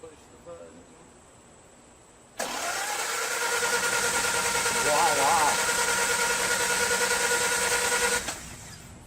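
A Land Rover's starter motor cranks the engine over freely without it firing, a sudden, loud, steady whirring drone that runs for about six seconds and then stops.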